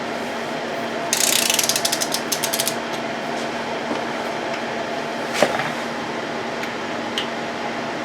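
A torque wrench tightens two bolts on a 1999 Grand Am 2.4 Quad 4 engine during a water pump and timing chain rebuild, giving a quick run of close ratchet clicks and then a single sharp click over a quiet hum.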